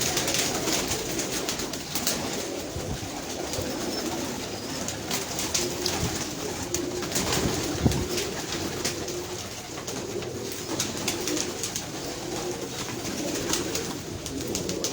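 Racing pigeons coo steadily throughout, layered over a busy background of other birds and faint ambient noise, with no one speaking.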